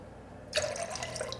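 Water poured back into a container during an HVAC demonstration of air properties: after a quiet start, a close splash of pouring, then a steady trickle with dripping, faint and heard alone.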